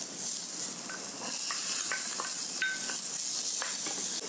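Sliced red onion sizzles softly in a pan with a gentle hiss, punctuated by a few light utensil scrapes and clicks from stirring.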